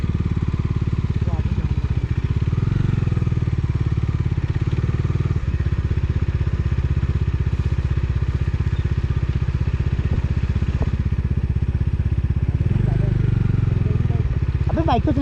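A motorcycle engine runs steadily and loud throughout on a snowy mountain road from Bageshwar toward Dhakuri and Khati village, with a low continuous drone, occasional clatter, and people talking over it.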